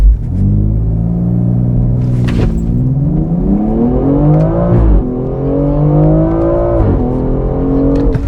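A BMW X3 M Competition engine pulls hard through the gears during an acceleration test, its loud close roar climbing in pitch, dropping briefly at each shift, then rising again.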